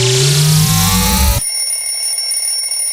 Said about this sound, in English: We've got a legit alarm clock sound